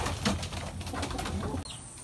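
Pigeons in a breeder section coo softly while being fed, with brief wing flaps, over a steady low murmur of close birds throughout.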